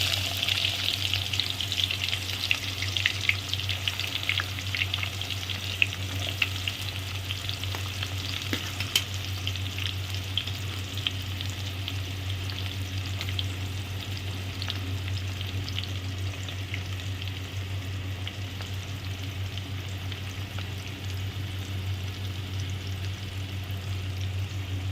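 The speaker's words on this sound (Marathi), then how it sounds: "थोडीशी राई, आता कांदा टाकते मी।" Onion frying in oil in a pot for a vegetable biryani, a loud, steady, dense sizzle and crackle that continues unbroken, with a low hum underneath and no talking.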